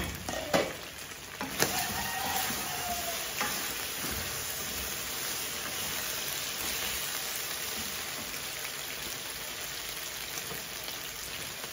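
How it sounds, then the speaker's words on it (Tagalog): Garlic and onion sautéing in a hot pan give a steady, close sizzle and crackle that runs unbroken, with a couple of sharper pops near the start and no talking. "Igigisa ko yung bawang at saka sibuyas dito."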